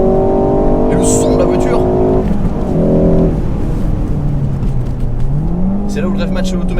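A 2019 Ford Focus ST petrol engine pulls under acceleration while driving, its harmonic drone rising and dropping through gear changes at steady volume, with a person talking over it throughout.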